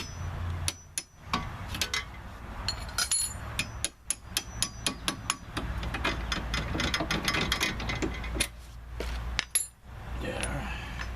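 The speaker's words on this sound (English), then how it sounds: "Get the hammer." A hammer taps on the wheel bearing hub of a 2005 Hyundai Elantra, sharp metallic knocks that come in quick bursts and irregular runs, close and ringing.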